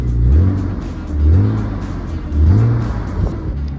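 A BMW E36 M3 with its stock exhaust revs up and drops back three times in a row, a deep throaty exhaust swelling loudly and then falling away, with no talking.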